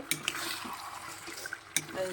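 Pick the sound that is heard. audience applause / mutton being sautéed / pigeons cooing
mutton being sautéed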